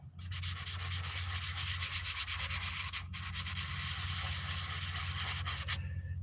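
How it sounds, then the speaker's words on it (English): Steady whirring hum of a random orbit sander grinding continuously across a scout helmet, with a low motor drone beneath the bright, gritty scrubbing. "ROS, random orbit sanding."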